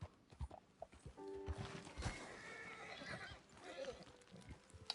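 A horse in the video game Red Dead Redemption II clip-clops and snorts over a soft background, with scattered hoof strikes and a brief whinny-like tone in the middle.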